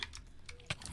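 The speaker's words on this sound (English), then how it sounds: "Your keyboard is so loud. Yeah, mechanical keyboards." Rapid clacking keystrokes on a loud mechanical computer keyboard during a Minecraft session, a steady run of sharp clicks with one louder strike near the end, no talking.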